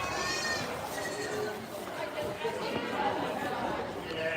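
Goat bleating inside a farm shed while giving birth, the calls mixed into steady people chatter and background farm noise throughout.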